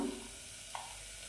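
Food sizzles steadily in a hot pan while a country chicken curry is being cooked, a soft, continuous frying hiss with one small pop and no voices.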